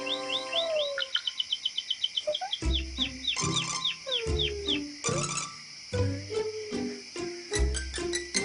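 High, rapid chirps and cheeps from a small bird repeat over a layered background of tonal calls and low thumps, lively and close.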